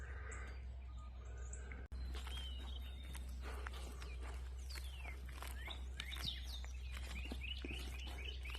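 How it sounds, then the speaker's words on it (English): Birds chirp and call repeatedly in a quiet rural cemetery at an old coal mine site, their bright tweets scattered over a steady low background hum, with no talking. "It's the birds and stuff."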